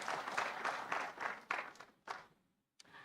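Short burst of applause at an afternoon session of a World Maritime Day fair, a thin scattering of claps in a room that fades and stops after about two seconds, with a few late claps.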